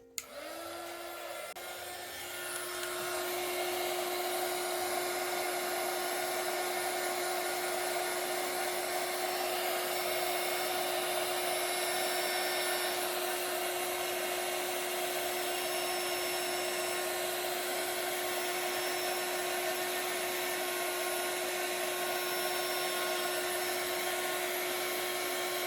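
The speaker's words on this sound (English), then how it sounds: "So we just need to melt the powder with a heating tool. I'm going to go ahead and turn my heating tool on." A heat embossing tool blows hot air steadily to melt embossing powder on a stamped card. After a short start-up it runs as a continuous, close, whirring hum with a constant tone and no talk for over twenty seconds.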